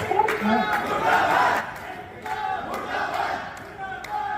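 A crowd of protesters chants slogans against the airline IndiGo, voices rising in loud, rhythmic bursts and then dropping to a quieter murmur with intermittent shouts.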